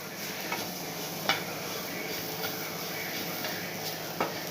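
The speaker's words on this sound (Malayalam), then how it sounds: "ഒന്ന് ഇളക്കി കൊടുക്കും." A spoon stirs melting jaggery in a pan off the flame, a soft continuous scraping hiss punctuated by a few light clicks of utensil against metal, close and fairly quiet with no talk.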